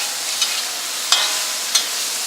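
Squid and turnip stir fry sizzling steadily in a wok, a broad hiss with a few sharp clatters of a utensil scraping the pan at irregular moments.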